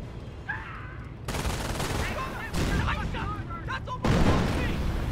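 Sniper rifle shots ring out in a strategy video game, with heavy booming gunfire and explosions layered together while a commentator talks over the battle.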